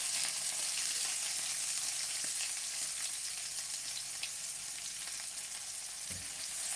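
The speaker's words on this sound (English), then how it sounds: "So you want to fry this until they are fragrant." Chili, garlic and dried spices frying in hot oil for spicy bamboo shoot chicken, giving a steady, dense sizzle that carries evenly throughout with no talking.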